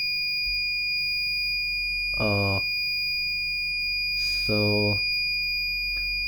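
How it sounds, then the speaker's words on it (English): An Arduino buzzer in a tilt-sensor motor safety system holds a continuous high electronic tone, while a nearby voice speaks briefly in a couple of short bursts over it. "the buzzer is running"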